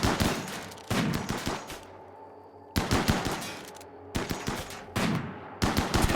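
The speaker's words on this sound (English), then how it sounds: "I love the sniper bullet missing incredibly wide." Sniper rifle shots in the colony game RimWorld ring out in loud bursts, each a cluster of sharp cracks followed by a short decaying tail, with brief silences between volleys.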